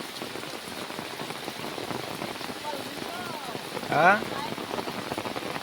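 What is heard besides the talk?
rain falling after many days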